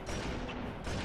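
Rapid gunfire from the Halo 2 sniper rifle, heard as a dense, continuous burst of loud shots packed close together with no talking over it.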